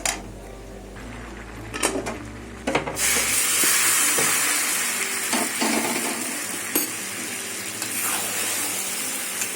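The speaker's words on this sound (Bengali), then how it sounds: "ডালটা ভেজে দিয়েছি" Lentil dal frying in a pan for a Bengali pachan dish, a broad steady sizzle that swells after a few metal clinks of utensil against pan and keeps hissing evenly at close range.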